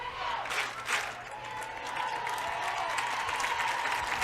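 A high school football crowd at a state Class D championship game applauds and cheers steadily, a broad wash of clapping and voices that holds at an even level throughout, with a faint whistle-like tone running underneath.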